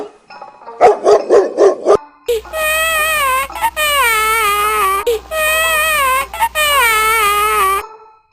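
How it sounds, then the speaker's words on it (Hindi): A small girl cries loudly in long, wavering wails right after a dog jumps at her, following a quick burst of sharp barks from the dog at the start. "एक कुत्ता एक छोटी बच्ची पर कूद गया। कुत्ते को देखकर बच्ची रोने लगी"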